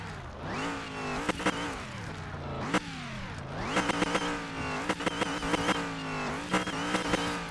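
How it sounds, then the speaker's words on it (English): A supercharged car engine in Car Mechanic Simulator 2021 revs hard through gear changes, its pitch sweeping up and dropping again. Short sharp clicks and bursts sound over the engine. "It's the supercharger."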